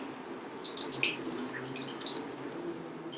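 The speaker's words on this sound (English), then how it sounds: "we are applying water to our polished surface" Water is applied to a polished ferrous or non-ferrous metal specimen to wash off chemicals, giving a soft close splashing trickle with a few brighter drips near the start and a faint steady flow after.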